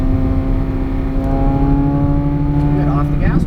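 A car accelerating on the race track at Las Vegas Motor Speedway, its engine note climbing steadily in a loud, sustained drone heard up close from inside.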